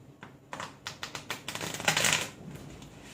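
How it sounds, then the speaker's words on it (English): A deck of cards is shuffled close by, a quick run of crisp riffling clicks building into a short flurry before trailing off. "I'll give this deck a quick shuffle, like so."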